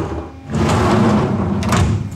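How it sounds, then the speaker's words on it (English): Sheet-metal door on a lathe being slid open and shut, giving a broad rumbling rattle with a short scrape near the end, fairly loud and close, with no voices. "Does the door open and close?"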